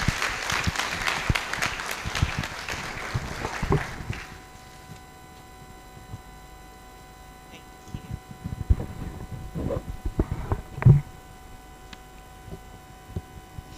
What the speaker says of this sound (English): Please, another round of applause for the CEO Nigeria Investment Promotion Commission.